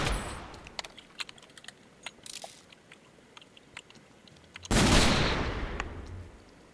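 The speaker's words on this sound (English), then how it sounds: "We get 4 fused wood saplings, which, in case you didn't know, they explode." Fused wood saplings explode in a blocky Minecraft-style video game: a loud, sustained roaring blast starts partway through and slowly fades, after scattered small clicks and game noises.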